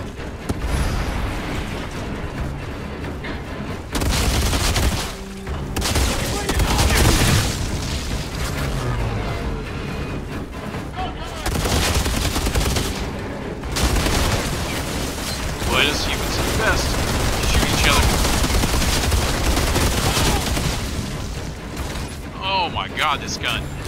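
In the video game Outriders, gunfire and heavy booming blasts of shooting and explosions come in long dense stretches broken by short pauses, loud and close, with game dialogue and speech mixed in.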